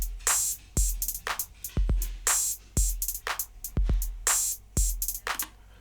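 A programmed MIDI drum pattern plays back in a steady loop of punchy low kicks and bright hi-hat and snare hits in a regular rhythm, clear and alone.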